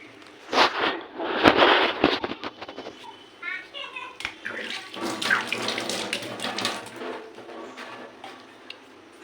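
Fish is rinsed under a running tap at a kitchen sink, with water splashing and gurgling in uneven bursts, handling clatter, and people talking throughout.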